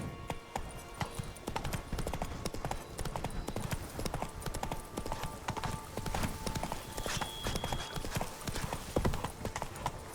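Steady galloping hoofbeats of Roach, the horse in The Witcher 3: Wild Hunt on PC, pound along close and continuous throughout, with a snort or whinny now and then and no talk over them.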